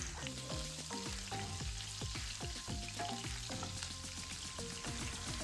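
Cumin, ginger-garlic paste and green chillies sizzle in hot oil in a pan, a faint, even crackle with scattered ringing clinks of a utensil against the pan.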